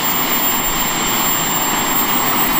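A small jet-powered hovercraft engine roars close and loud, a steady broadband rush of jet noise with a thin high whine running throughout, no voices.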